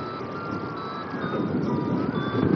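A free-flight variometer beeps in a thermal during a flight after a launch from 1000 m, its thin electronic tones sounding faintly over a steady rush of wind.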